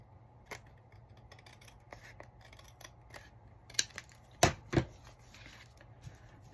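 Scissors snip paper cards during a craft project, faint scattered cuts building to a few sharper, louder snips near the end, with no talk.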